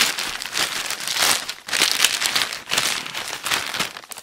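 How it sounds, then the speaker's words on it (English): A bag holding a new 64 GB iPhone is torn open by hand, giving bursts of loud, close crinkling and ripping plastic in several waves with brief pauses between them. "I'm actually just gonna rip it open here"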